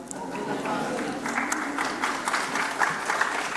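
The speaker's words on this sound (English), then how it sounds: "I heard some applause coming from there" Applause from a graduation ceremony audience, a continuous spread of clapping from many people in a large hall, moderate in level, steady for the whole stretch.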